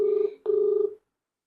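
A telephone rings while a call is placed to a village head, two electronic ringback tones with a short gap between them, clear and steady, then silence.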